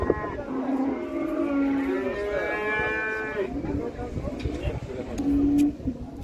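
Cattle moo at a livestock market, several drawn-out lowing calls rising and falling close by, with people talking in the background amid the general market noise.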